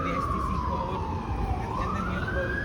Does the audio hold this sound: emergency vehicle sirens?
yes